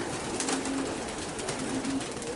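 A racing pigeon coos at a loft, a few soft, low, throaty calls repeated close by under a steady wash of background noise.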